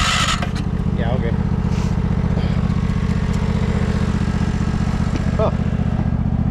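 A 1968 John Deere 140 garden tractor engine runs loud and steady with a dense, low mechanical drone, close by, and a voice briefly breaks through partway.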